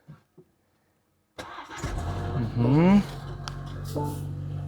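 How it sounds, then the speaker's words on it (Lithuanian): A 2025 BMW 430i engine cranks and fires after a moment of silence, rising into a brief rev before settling to a steady idle, heard close with a voice speaking over it. "Pabandom užvesti."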